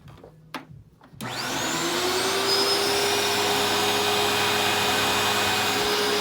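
A black Eureka Victory vacuum cleaner is switched on after a couple of clicks, spinning up into a loud, steady close-range whine and roar that holds to the end.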